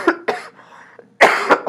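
Several harsh coughs in bursts, close and loud, with a short quieter pause between the first coughs and a final heavier pair.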